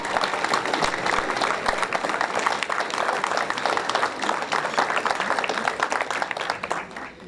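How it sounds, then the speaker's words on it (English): Audience applause for students standing beside their displayed projects at a high school science fair, a dense, steady wash of clapping that lasts the whole stretch and tapers slightly at the end. "Will all the students who have projects displayed please stand so we can give you a round of applause?"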